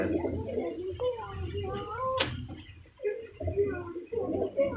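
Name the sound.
pigeons cooing in a loft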